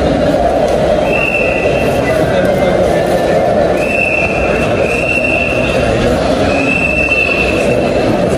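A Dhaka Metro Rail train pulls into a station with a loud, continuous rumble. High-pitched squeals rise and fade several times over the roar.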